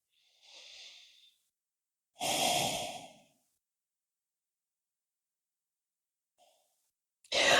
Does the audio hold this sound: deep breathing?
yes